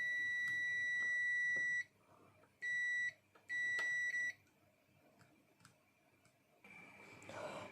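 A multimeter emits a high electronic beep during a continuity test on monitor wires, with one long tone, then two shorter beeps, followed by quiet handling noise.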